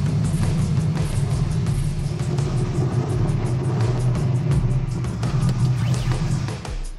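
A Ford 460 V8 fitted in a car with a Powerglide transmission runs at steady idle after its first fire-up, a loud, continuous, close engine rumble with no talk.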